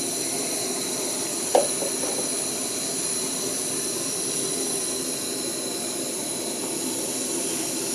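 A steady, loud roar of an AWRoutdoor 3500W camping gas stove burner turned up to full blast, continuous throughout with a brief click near the start.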